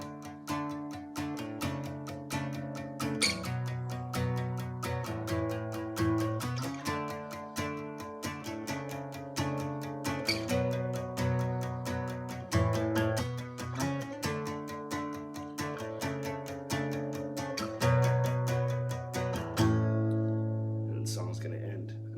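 Acoustic guitar chords from a song strummed in a steady, full rhythm for a long stretch, with chord changes and no talking.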